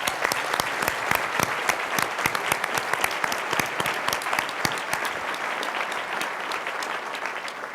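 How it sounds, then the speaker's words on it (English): Luncheon audience at a philanthropy day event breaking into applause: many hands clapping in a lively, continuous patter that tapers slightly toward the end. "How about a round of applause for that?"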